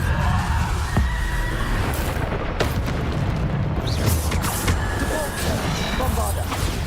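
Bombarda explosion spells in a Hogwarts video game: repeated booming blasts and crackling magical effects in a dense, loud, continuous battle din, with a voice calling out at times.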